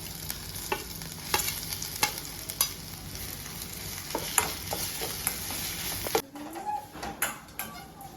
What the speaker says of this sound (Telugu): వేసుకున్న తర్వాత కొంచెం సేపు అయితే ఇలా మంచిగా కలిపేసుకోవాలి ఒక రెండు నిమిషాలు అనమాట